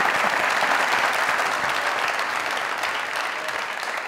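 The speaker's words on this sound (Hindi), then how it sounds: "बहन तो जोरदार तालियां जरा।" Studio audience at a Pakistani comedy talk show bursts into sustained, loud applause, a dense steady wash of clapping that stays strong and even throughout, with no talk over it.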